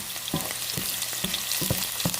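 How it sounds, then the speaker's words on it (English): Red onions sautéing in a pan give a continuous loud sizzle, broken by regular stirring scrapes about every half second, with no voices. "we saute a little bit until a little brown"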